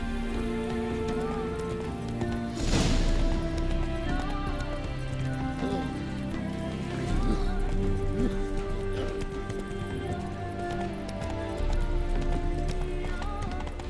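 A horse gallops in The Witcher 3 video game, its hooves beating a quick, steady clip-clop under rain and ambient game music, with a brief whoosh early on.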